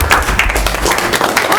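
Applause at a school board meeting, a short burst of steady clapping from a modest crowd in a room, close and fairly loud.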